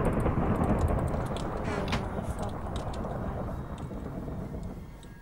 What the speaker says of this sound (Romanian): A tunat pe aici pe lângă mine.